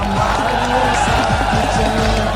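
A large crowd of PTI supporters gathered at D-Chowk, cheering and clapping in a dense, continuous roar that holds steady throughout, close and loud.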